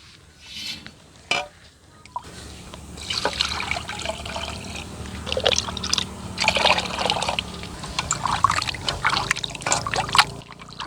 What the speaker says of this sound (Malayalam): അപ്പോൾ ഒന്നും കൂടി നമുക്ക് കഴുകാം.